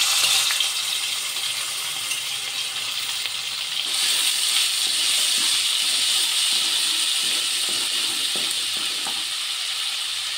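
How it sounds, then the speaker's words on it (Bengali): Ginger garlic paste sizzling in hot oil left from frying prawns, a steady loud hiss with soft crackles throughout, growing slightly brighter partway through, with no voices. "এবারে ওই তেলের মধ্যে আমি আদা রসুনের পেস্টটা দিয়ে দেবো"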